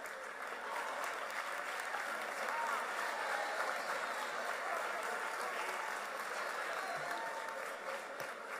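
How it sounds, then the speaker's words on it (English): Steady, dense applause from an audience at a school announcement event, sustained and even throughout with a broad crowd wash. "Please join me in giving all of the young men of Urban Prep's 3 campuses another round of applause."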